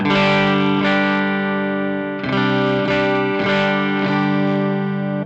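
An electric guitar rings out in a clean tone on the neck pickup with the volume knob rolled back, several chords strummed and left to sustain, loud and close.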